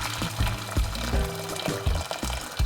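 Hot water poured from a container into a cooking pot on a stove, a steady splashing fill with some clunks, close and fairly loud, no speech.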